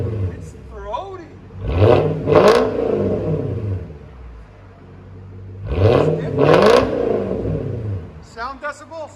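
A car engine with a dual X-pipe exhaust gives two strong, throaty revs a few seconds apart, each rising and falling back to a deep rumbling idle. Brief voices come in near the end.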